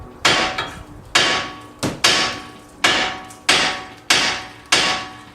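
A hammer strikes the seized head of a bolt on a 2004-2008 Nissan Murano suspension: seven loud, sharp metallic blows in a steady rhythm, each ringing briefly before the next.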